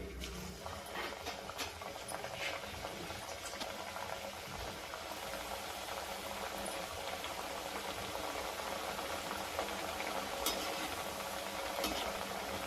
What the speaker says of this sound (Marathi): हे बघा छान असं आपलं तेल गरम झालंय त्यामध्ये हे आपण बनवलेले हे तेलामध्ये सोडून देऊ